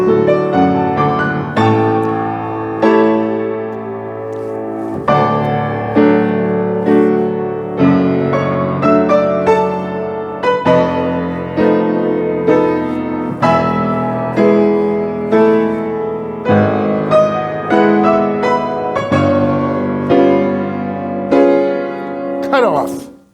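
A full orchestra plays loudly and continuously with strong repeated accents, then stops abruptly, leaving near silence.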